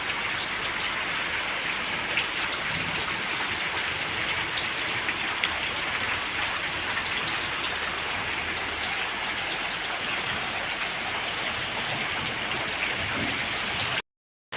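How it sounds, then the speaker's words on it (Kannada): Steady, dense rainfall patters on surfaces without pause, a continuous hiss of heavy rain with no voices. "ಜೋರು ಮಳೆ ಬರ್ತಾ ಉಂಟು ಮಧ್ಯಾಹ್ನ ಮೇಲಿಂದ ಶುರುವಾಗಿದೆ ಮಳೆ"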